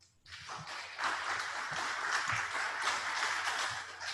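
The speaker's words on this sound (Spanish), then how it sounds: "Aplausos." Applause from an audience at an engineering lecture on smart buildings in Peru, a dense, steady clapping that starts abruptly and holds at even volume throughout, with no talking over it.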